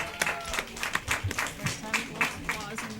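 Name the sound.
audience applauding after a council vote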